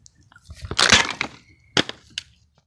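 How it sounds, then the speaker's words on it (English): A custom-built airgun shot bursts a water bottle apart, giving a loud, sharp crack-and-splash burst followed by two shorter sharp impacts, close up with no talking. "So that blew this thing completely apart and through and through on the water bottle."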